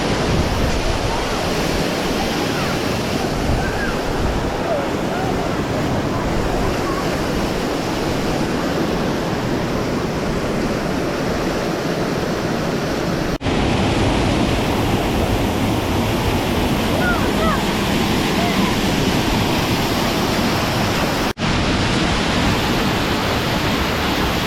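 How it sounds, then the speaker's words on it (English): A roughly 100-foot waterfall roars as a dense, steady broadband wash of falling water, loud and unbroken throughout, heard close from its base outdoors. "that's about say 100-foot waterfall"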